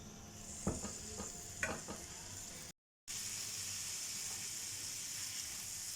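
Chicken for pizza sizzles steadily in a pan with a soft, constant frying hiss, interrupted early by a few scraping stirs and a brief dropout.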